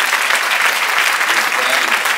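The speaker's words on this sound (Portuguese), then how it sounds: "vamos dar um forte aplauso ao Senhor Jesus" A large audience at a national missions congress applauds loudly in a dense, steady wash of clapping that holds level for the whole burst.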